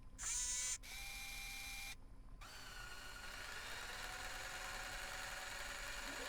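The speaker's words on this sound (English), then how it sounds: "I love that drill." A drill runs in the video game Kerbal Space Program with a steady mechanical whirring hum and a ratcheting grind. Brief tonal beeps and cutoffs open it before a continuous, faint drone settles in, with no talking.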